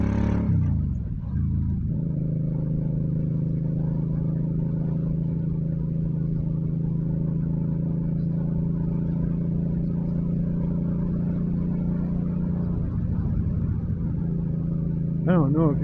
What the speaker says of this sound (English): I don't know if you guys can hear the exhaust, how the bike sounds